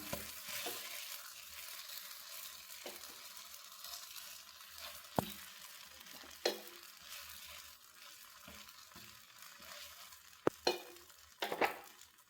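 Wheat flour dosa sizzling on a hot pan, a continuous soft fry hiss broken by occasional sharp clinks and scrapes of a utensil against the pan, with no voices.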